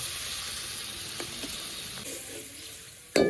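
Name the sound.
spice masala frying with a little water added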